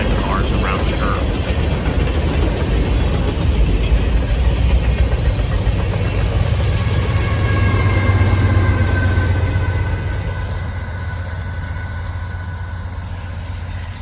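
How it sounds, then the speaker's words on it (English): A Norfolk Southern freight train rumbles steadily, its rear AC-44C6M locomotive pushing 99 cars around a curve, with continuous wheel and car noise that stays loud, then eases slightly toward the end. "A second AC-44C6M brings up the rear of 33A, pushing all 99 cars around the curve."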